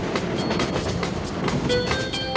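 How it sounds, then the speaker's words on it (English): A New York City subway train rumbles past with rhythmic clickety-clack from the wheels and faint high metallic whines, loud and continuous. "The subway."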